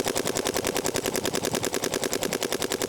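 A high-end paintball marker, either a Luxe Idol or a MacDev GTX with its barrel screwed fully in, fires rapidly and steadily, dozens of evenly spaced pops in a tight continuous burst, close and loud with no talking.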